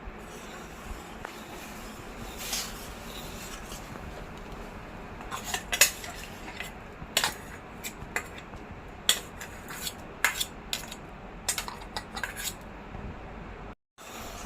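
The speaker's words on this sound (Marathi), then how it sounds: "चांगले ढवळून" A spoon stirs a coarse ground rice, cashew and almond mixture for kheer in a metal pot, making repeated scraping clinks and rattles in uneven bursts, close up.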